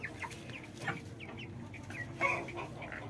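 White broiler chickens, 26 days old, cluck softly in a warm coop with scattered short calls close by and no talking.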